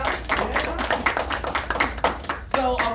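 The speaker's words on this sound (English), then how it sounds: "So give yourselves a round of applause as well" An audience at a book signing breaks into a round of applause, a loud and close crackle of many hands with sharp individual claps. A voice speaks over the end of it.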